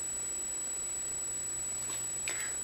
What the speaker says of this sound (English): Wait 5 seconds and listen for the beep.